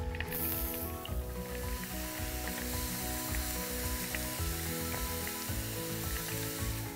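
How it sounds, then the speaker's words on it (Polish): Steady, loud sizzling of beef tenderloin searing on a hot grill pan with a rhythmic low scraping pattern underneath, continuous throughout. "Będę ją smażył na patelni grillowej"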